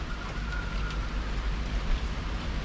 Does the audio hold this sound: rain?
yes